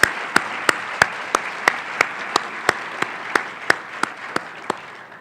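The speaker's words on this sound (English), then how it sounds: "Please give another round of applause to the contemporary gospel singers for that wonderful performance." Steady audience applause fills an MLK Day 2014 event hall after a contemporary gospel group's performance, a dense wash of hands with sharp, evenly spaced accent claps cutting through at a regular beat.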